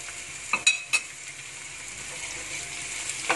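Ground red chilli, garlic and ginger sauté in a pan with a continuous soft sizzle, a few sharp clicks of a utensil near the start, then a steady hiss.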